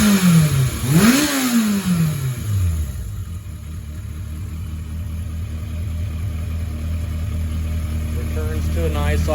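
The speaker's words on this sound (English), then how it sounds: "Returns to a nice idle." A 1985 Yamaha XJ700N Maxim motorcycle engine drops from a brief rev back to a steady, even idle after carburetor tuning, a close, loud low rumble that holds for several seconds.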